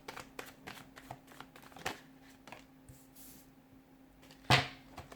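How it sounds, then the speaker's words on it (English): Tarot cards are shuffled by hand, a run of soft riffling flicks and taps at close range, with a sharper louder card snap near the end. "give the cards a shuffle"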